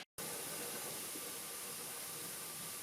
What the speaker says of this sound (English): You can see this and hear the steam coming out in the vent